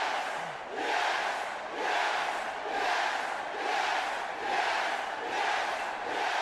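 Video game wrestling crowd from WWE 2K20 NXT chants in a steady, swelling rhythm, a dense roar of many voices rising and falling in regular waves throughout.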